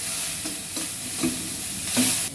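Onions sizzle in a hot pan with a pinch of salt, cooked as the base for red lentils with water spinach; steady frying hiss with a few soft stirring scrapes close by, no voices.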